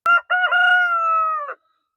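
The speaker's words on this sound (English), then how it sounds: "we definitely didn't want more roosters" A farm rooster crows once, a clear, close call with a short opening note and a long held tone that drops off at the end, with no other sound around it.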